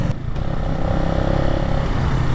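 A Benelli Motobi 200 Evo cruiser motorcycle rides along near Tagaytay, its engine droning steadily and close with wind rumble over the microphone.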